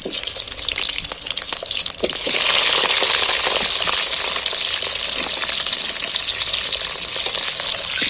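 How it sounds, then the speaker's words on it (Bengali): Washed, cut potatoes are added to hot oil already holding cardamom, cinnamon and clove for an egg biryani, and they fry in a loud, steady, hissing sizzle up close. "আলুগুলো তুলে দিই তেলের মধ্যে"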